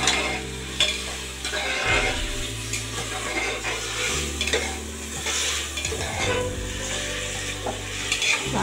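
A spoon stirs garlic-ginger paste and tomatoes sizzling in a pan, with continuous close scraping strokes over a steady frying hiss, no voices.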